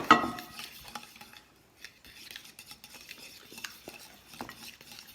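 Soft scraping and clinking of a utensil working through a thick dough mixture for Sardinian piricchittos as flour is added in a bowl, with irregular taps and rustles, close and fairly quiet.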